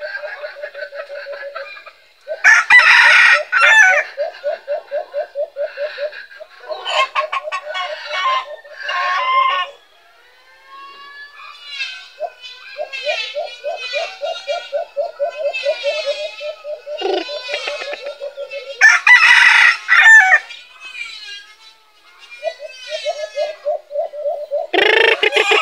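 Labuyo crossbreed chickens cluck in close, loud, rapid bursts with repeated crowing calls and brief quiet gaps between bouts.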